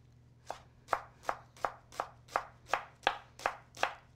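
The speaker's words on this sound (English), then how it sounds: "we're gonna mince our shallots" A knife minces shallots on a cutting board in ten steady, evenly spaced chops, close and crisp, with no talking.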